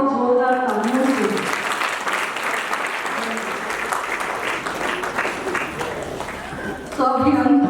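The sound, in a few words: applause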